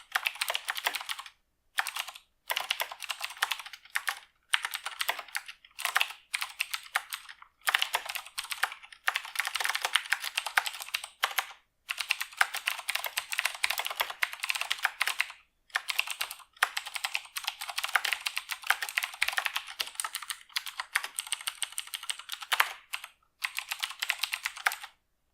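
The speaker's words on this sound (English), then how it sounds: "Boy, I'm just misspelling everything I'm typing today." Rapid, irregular clatter of typing on a computer keyboard, keystrokes arriving in bursts with short pauses, close and moderately quiet, with no voices.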